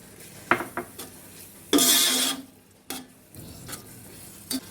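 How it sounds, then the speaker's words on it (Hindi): Raw peas are tipped into a pot of cooked-down tomato and oil for matar pulao, heard as a brief rushing pour and sizzle amid scattered close clinks of a spoon against the pot. "अब हम इसमें 1 प्याली मटर डालेंगे।"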